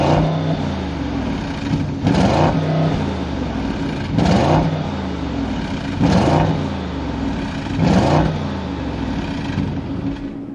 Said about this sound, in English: let's do a quick exhaust check and see what this thing sounds like